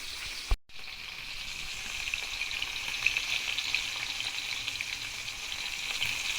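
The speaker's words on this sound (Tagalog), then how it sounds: "Ayan na nga guys, nagprito na ko dyan. Yan sa gusto ko yung isda na yan guys" Fish frying in a pan, giving a steady close hiss and sizzle after a brief clatter at the start, with no talk.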